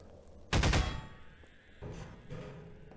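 Rifle gunfire in the Half-Life 2 video game: one loud, sharp burst of rapid shots fading into a rumbling echo, followed by quieter mechanical clunks and shuffling.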